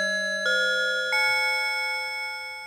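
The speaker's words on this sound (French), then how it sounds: "Ça fait des sons de cloche un peu." Bell-like FM synth tones from a Korg Minilogue XD analog synthesizer, a few sustained crystalline chimes struck one after another and left ringing, clean and alone.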